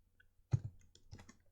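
A few quick keystrokes click on a computer keyboard as code is typed, short close taps clustered in two small bursts against near silence.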